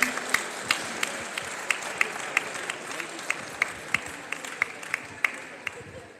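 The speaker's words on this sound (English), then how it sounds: "Can I have a round of applause, guys?" An audience gives a round of applause at a Valais Blacknose sheep grading demonstration in Carlisle, a steady patter of clapping from a small crowd with a few sharper claps standing out.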